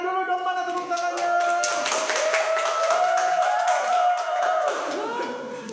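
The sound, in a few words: audience applause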